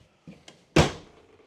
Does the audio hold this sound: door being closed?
yes